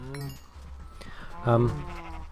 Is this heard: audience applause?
no